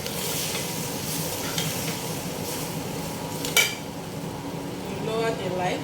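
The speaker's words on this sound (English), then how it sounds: "Add and stir." Cooked rice stir-fried with vegetables: a continuous close sizzle and hiss with scraping stirring strokes and one sharp utensil knock partway through.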